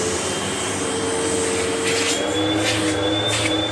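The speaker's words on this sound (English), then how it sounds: "you can hear it sounding like your average vacuum motor" A Eureka The Boss SmartVac vacuum cleaner in tools mode runs with a loud, constant motor whine and airflow roar, with a few brief swells of suction noise near the end.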